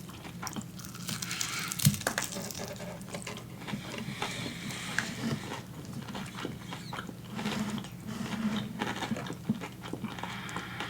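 Close-up crunching bites and chewing of KFC fried chicken, with crisp crackling bursts and steady mouth noises over a low background hum, no talking.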